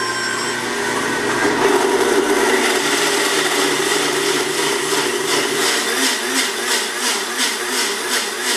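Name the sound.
Blendtec blender running with glass mason jar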